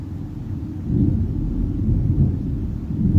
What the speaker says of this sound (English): You hear it thundering?